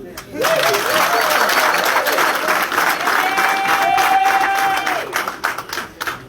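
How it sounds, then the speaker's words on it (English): Sustained applause from a crowd fills the room for several seconds, loud and steady before tapering off. "I think you can clap."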